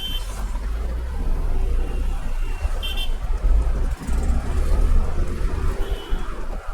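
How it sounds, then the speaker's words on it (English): A car makes a quick U-turn in busy city traffic, with a continuous engine and road roar and passing vehicles. A brief horn toot sounds partway through, and the noise stays loud and close throughout. "I will quickly take the U-turn."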